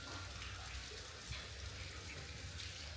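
Water from a well pump runs steadily in the fields, a continuous faint hiss and splash with no break and no voices.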